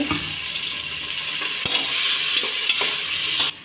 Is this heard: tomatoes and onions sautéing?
yes